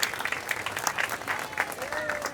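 Audience applause at a gathering, clapping that comes in uneven bursts over a little more than two seconds, with a voice audible underneath.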